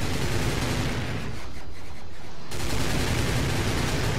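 Frigates firing in a Star Wars Battlefront 2 Stargate mod (Pegasus map): a dense, continuous barrage of blasts and explosive fire, loud and steady throughout, with a brief thinning in the middle before the barrage surges back.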